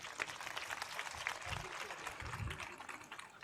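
Booth presidents at a BJP workers' rally in Navsari clap together, a faint, distant patter of many hands sustained for several seconds.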